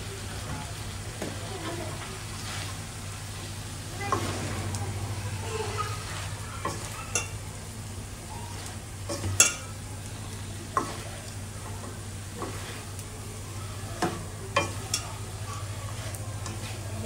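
Shrimp bhaji is stirred in a frying pan, giving a steady, fairly quiet sizzle with scattered sharp clicks and scrapes from the spatula.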